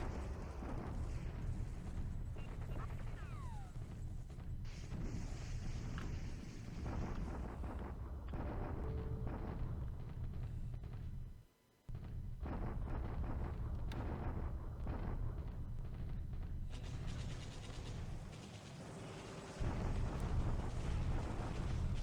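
A World War II strategy game plays an artillery bombardment of Singapore as a long, dense wall of rumbling explosions and booms that breaks briefly in the middle before resuming just as loud.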